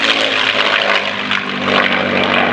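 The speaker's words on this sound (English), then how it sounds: "the Rolls-Royce Merlin into it." A P-51D Mustang with its Rolls-Royce Merlin engine roars past at an air show rally in Essex, the propeller drone loud and steady and rising slightly toward the end, with no voices.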